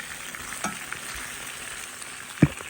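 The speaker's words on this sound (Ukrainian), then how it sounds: "Смаживши до золотого кольору картоплю, ми додаємо петрики і перемішуємо" Potatoes frying in oil in a kazan cauldron, a steady close sizzle with a couple of brief stirring scrapes and knocks, no voices over it.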